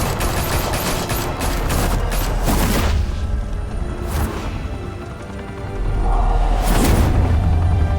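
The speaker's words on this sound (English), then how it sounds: "Open fire!" Gunfire erupts in Batman: The Telltale Series as a loud volley of overlapping shots. A few sharp bursts ring out over a rumbling bed, followed by a brief lull and then another burst of shots.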